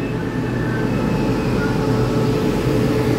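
A Taiwan Railway PP Tze-Chiang express train departs Hualien station, a loud steady rumble of wheels and running gear with a faint high tonal whine above it, continuous and close, with no talk.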